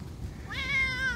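A house cat gives one clear, close meow that rises and then falls in pitch. It follows a moment of quiet outdoor background.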